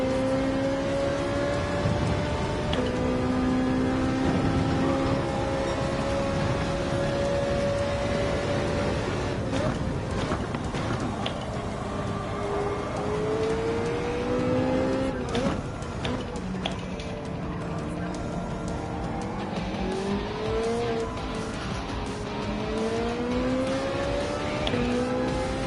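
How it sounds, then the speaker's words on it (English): Porsche and Ferrari race cars roar through a racing video game, engines droning loudly and continuously with rising and falling pitch as they accelerate, shift and exit turns. "the Porsche exits that final turn a lot better than the Ferrari does"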